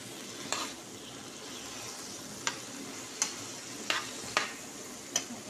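Fish and vegetables with black pepper being stirred in a pan, a soft steady sizzle under a handful of sharp spatula clicks and scrapes at irregular intervals, close and fairly quiet, no talking.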